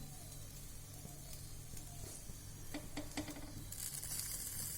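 Green eggplant roasting on both sides, a faint steady sizzle and crackle with a few light scraping and turning sounds, quiet and close.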